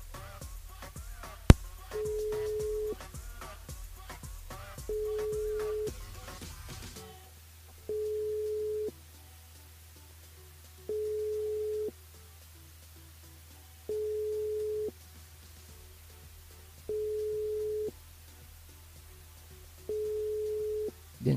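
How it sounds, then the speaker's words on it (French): A telephone ringback tone repeats in slow, evenly spaced pulses with quiet gaps between them, going unanswered; it sounds thin and electronic, with no voices. "Dernière sonnerie."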